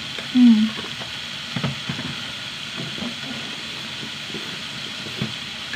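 Onions and spice powders, turmeric among them, sizzle and fry in a pan with a steady hiss and occasional stirring scrapes, moderately close, with no talk.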